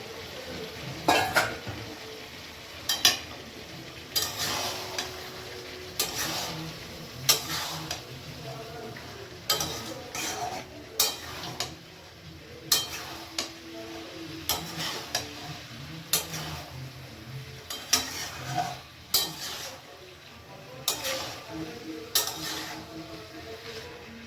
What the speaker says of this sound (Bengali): এবার আমি মটরগুলোকে সব দিয়ে দেবো, দিয়ে এবার মটর দিয়ে কষবো